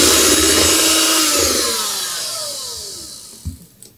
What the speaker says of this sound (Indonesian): kita masukin santan. Lanjut kita mixer kembali.